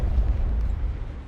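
Low, rumbling artillery shell blast falling short of its target in a tank-versus-battleship video game, a deep sustained boom that stays loud and heavy throughout.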